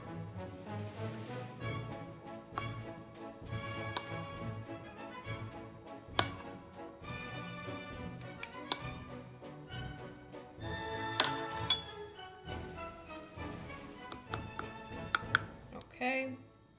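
A spoon clinks and scrapes against a mug while vanilla and liquid sweetener are stirred in for a vegan microwave mug cake, light irregular taps heard under soft talking.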